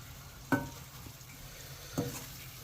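A ladle mixing prawn biryani in a pot for a birthday meal: two distinct scraping stirs about a second and a half apart, over a low steady kitchen background.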